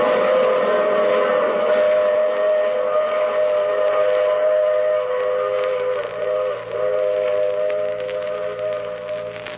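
A train rumbles along steadily with a sustained whistle tone riding over the clatter, a sound effect in a 1950 radio drama, loud and close, with no voices.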